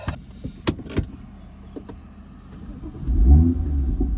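A BMW M2 starts with a few clicks and clunks, then its engine fires with a deep, close rumble and revs up near the end; no talking.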